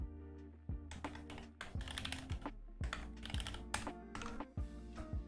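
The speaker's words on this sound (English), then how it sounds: "I'll type it for you, Emil." Brisk keystrokes on a Mode SixtyFive prototype mechanical keyboard built with tactile switches, clacking in quick irregular bursts, close and fairly loud, with a faint tonal background running underneath.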